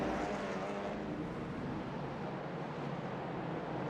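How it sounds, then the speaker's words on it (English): A TCR touring car at Okayama in a racing simulator, entering the pit lane, gives a steady, even engine drone that holds at a constant level without breaks or other sounds. "You can hear a car going into the pit lane."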